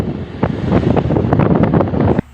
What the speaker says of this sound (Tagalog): Nakaka-addict talaga yung tunog ng hangin